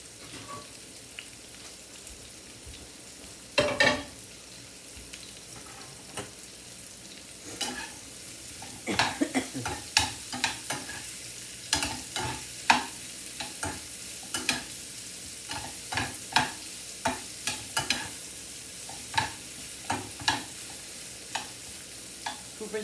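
Food sizzles and crackles in a frying pan on a home stove, with sharp pops and spatters scattered irregularly over a steady low frying hiss, no voices.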